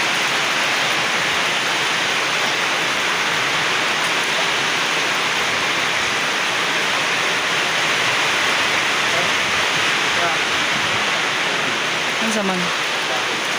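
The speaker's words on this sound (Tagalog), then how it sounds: "Pumunta yung ulan sa ating terrace." Steady rain pours onto a terrace, a dense continuous hiss filling the whole scene, with brief voices in a local language speaking over it.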